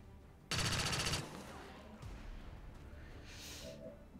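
A fast, loud burst of rapid gunfire in XCOM 2 lasting under a second, followed by fainter game sounds and a brief hiss.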